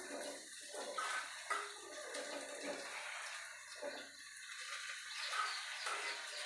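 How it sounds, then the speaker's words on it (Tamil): Water drips and drains from freshly washed chillies sitting in a strainer, a soft irregular trickle with scattered splashes, close and fairly quiet. "அப்போ பார்த்திங்களா, அடியில் தண்ணி சொட்டுது, தண்ணி வடியும்."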